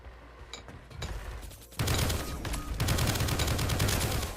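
Turrets in a video game in development open fire in sustained rapid bursts, a dense, loud rattle of automatic gunfire that starts sparse and then swells into continuous fusillade for several seconds with no talking.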